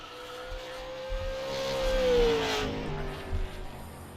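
A super late model race car laps 5 Flags Speedway, its engine note rising as it swells past through the turns and then fading, with a steady roar throughout.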